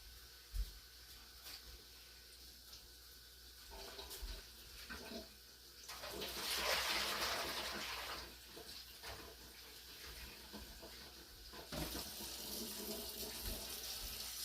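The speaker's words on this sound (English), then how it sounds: "what I usually do is I put some of the water in the pan" Water runs and pours into a pan for a cheesecake water bath in a home kitchen, a soft continuous splashing stream that swells midway and again near the end, heard alone.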